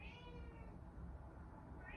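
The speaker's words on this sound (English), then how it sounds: "I'm gonna let this cat in now." A cat meows at a door to be let in, with two drawn-out rising and falling calls at the start and end, close and moderately loud against a low rumbling background.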